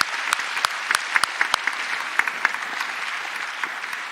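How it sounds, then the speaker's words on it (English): An audience at a scholarship endowment awards assembly claps for donors, a dense burst of applause from a large crowd with scattered sharper claps, steady throughout and fairly loud. "Let's give a round of applause for these donors that are here with us."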